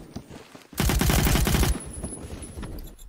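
Automatic fire from a SCAR PDW in the video game Phantom Forces, one loud, rapid burst of about a second, with quieter game sounds before and after.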